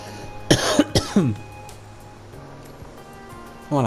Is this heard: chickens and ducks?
no